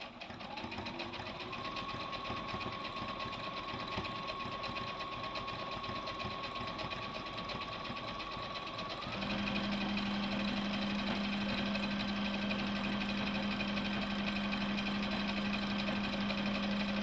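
A Brother LB6800 combination sewing and embroidery machine stitches with a steady, fast mechanical whir and hum. Its pitch and loudness step up partway through and then run evenly to the end, with no talking.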